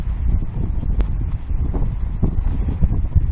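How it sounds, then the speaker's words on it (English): Strong gale battering a small tent shelter on a wild camp in the Peak District, loud rumbling gusts buffeting the microphone with flapping fabric thumps and rustles throughout. "It's blowing a blinking gale"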